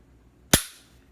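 A single sharp, close click from a Glock 43X pistol being dry-fired, a crisp snap that decays quickly into near-silence.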